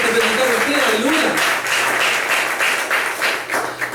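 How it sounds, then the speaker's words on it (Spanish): A church congregation breaks into applause during an energetic Spanish-language service, sustained mixed clapping filling the room from the middle of the moment onward, with voices running beneath it. "Dile un aplauso al Señor"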